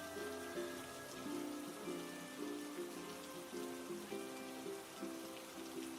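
A steady rain effect patters evenly beneath gentle repeating background music in a read-aloud storybook about a stormy day, with no voice over it.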